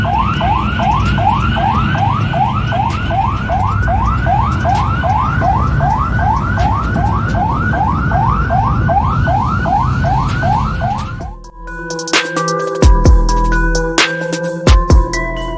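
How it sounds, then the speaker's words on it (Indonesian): An ambulance siren wails loud and close in rapid rising sweeps amid traffic noise, ending near the eleven-second mark as sharp tonal horn blasts and engine sounds follow. "Meski sirine mobil ambulans terdengar begitu keras"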